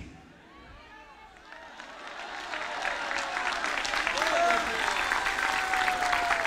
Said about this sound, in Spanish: yo sé que muchos están aplaudiendo